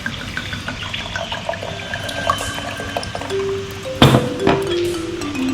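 Red wine pours in a steady trickling stream, close by, with a few soft clinks and a brief rising gurgle near the end.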